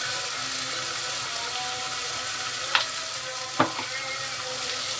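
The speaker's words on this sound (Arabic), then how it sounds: "انا كده واخد اللحمه بقى تشويحه في في الثوم والبصل، تشويحه واحده بس كده يا دوبك" Meat sautéing with garlic and onion for a bamia stew: a steady close frying sizzle with a couple of short sharp clinks from stirring, no voices.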